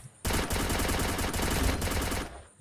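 Rapid automatic gunfire from the Free Fire video game fills about two seconds with dense, loud, evenly spaced shots, then stops abruptly.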